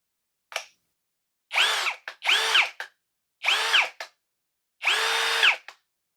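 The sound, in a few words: Tecepo 21V cordless drill running, noise on releasing trigger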